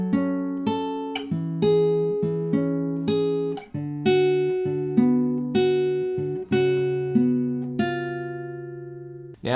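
An acoustic guitar fingerpicks the opening line of a song, bass notes and plucked upper notes in a steady, unhurried pattern, clear and close with no voices.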